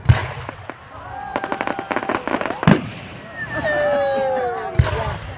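Fireworks burst over Stockton in 2016 as a series of sharp bangs and crackling pops, with whistling trails rising between blasts. Nearby voices talk through the display.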